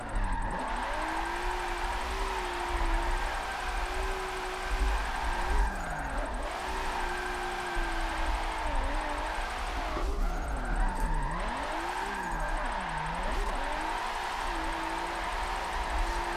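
Racing cars in the video game Forza 7 drone and rev continuously, with engine pitch rising and falling as they drift in tandem on a track, loud and close with no talk.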